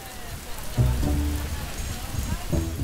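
Heavy rain pouring steadily in Brisbane, a constant hiss of drops on surfaces, with faint low background sounds and a voice briefly under the downpour.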